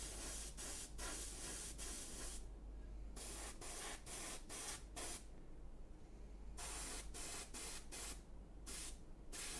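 Airbrush spraying paint onto a miniature in hissing bursts that start and stop repeatedly, steady and close over a low hum.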